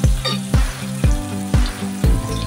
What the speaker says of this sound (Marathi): त्यात घालूया कांदे आणि सोबत 7 ते 8 पानं कढीपत्त्याची घातलेली आहे